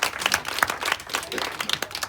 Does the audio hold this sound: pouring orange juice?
no